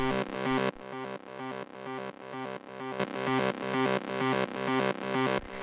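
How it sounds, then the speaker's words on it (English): A heavily processed, distorted techno drum bus loop repeats steadily, full and dense with echo, each bar pumping in volume before the next hit. "Then after that we have this drum bus."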